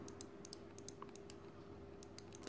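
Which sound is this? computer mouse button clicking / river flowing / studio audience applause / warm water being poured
computer mouse button clicking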